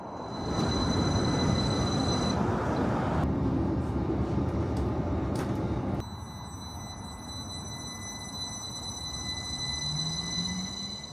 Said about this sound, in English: I'm going to catch my train now